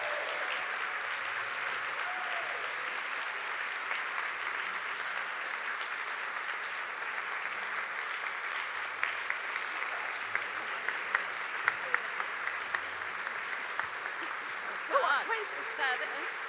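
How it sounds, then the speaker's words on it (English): Sustained applause from an audience at a food history award gala, a dense, even wash of clapping lasting throughout, steady and moderately distant, with a few sharper claps near the end. "Let's give her a huge round of applause for this well-deserved honor."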